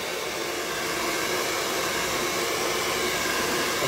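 A blow dryer drying acrylic paint gives a constant, loud, broadband whoosh of airflow, steady and unbroken for about four seconds with no talking.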